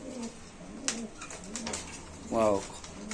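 Racing pigeons cooing close by at a pigeon seller's, one soft throaty coo rising clearly near the end amid faint background chatter and small clicks.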